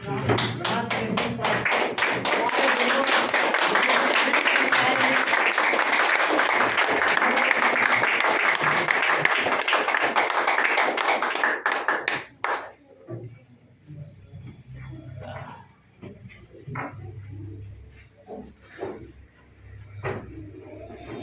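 Loud, sustained applause from a standing audience at a weekly meeting in Gaya, Bihar, with dense clapping for about twelve seconds before it cuts to quieter scattered taps and voices.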